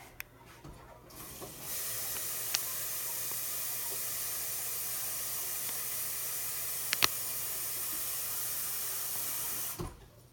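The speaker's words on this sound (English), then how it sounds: "while I fill this bowl with water" Water runs from a tap into a bowl for ramen, a steady bright hissing stream lasting about eight seconds with sharp starts and stops and a few small clicks, close and alone.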